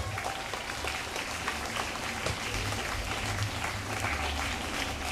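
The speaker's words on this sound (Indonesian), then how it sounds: "Kasih aplaus untuk kalian semuanya." A crowd applauds at a junior high school student council (OSIS) inauguration, with steady, dense clapping that holds at even loudness throughout and never breaks.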